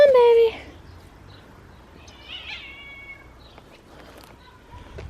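A cat in a home garden lets out one loud, sharp yowl at the very start, followed by quieter scuffling and faint, scattered cat noises from a little distance.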